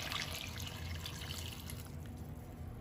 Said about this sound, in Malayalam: വെള്ളവും ചേർത്ത് ഇതാദ്യം വേകാൻ വെക്കാം.